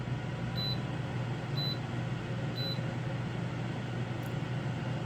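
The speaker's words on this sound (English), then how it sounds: "There's the beep." A countertop air fryer grill beeps three times, evenly spaced about a second apart, to signal it has finished preheating, over a steady low fan hum in a quiet kitchen.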